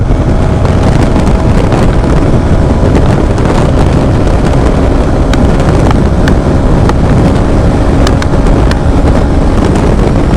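A Hero XTR motorcycle roars steadily at about 130 km/h with heavy wind buffeting across the microphone, a continuous rushing drone throughout.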